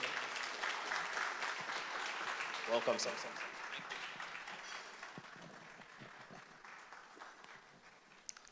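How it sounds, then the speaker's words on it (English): An audience applauds steadily, a dense wash of clapping that slowly fades, with a voice speaking briefly over it. "Keep clapping until he comes here."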